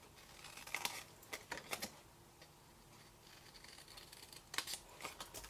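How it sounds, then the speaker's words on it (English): Cardstock is cut along score lines, probably with scissors, in a few short, crisp snipping bursts separated by quiet pauses, faint and close, with no speech. "Okay, cut straight up the score lines on the bottom."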